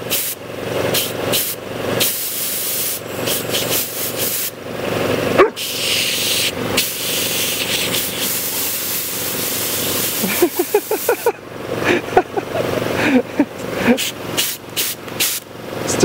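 An air compressor blows a loud, steady hiss of air at a Newfoundland dog, with bursts that start and stop, some thumping and shuffling nearby, and brief talk mixed in.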